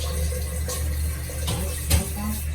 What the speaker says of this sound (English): Turning off the water.